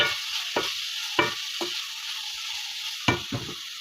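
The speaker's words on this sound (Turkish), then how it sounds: "Karıştırıyorum. Kıymam kavruldu." Ground meat with salt and spices fries in a pan, a steady sizzle under repeated scraping stirs of a spoon against the pan, close and moderately loud without any talk.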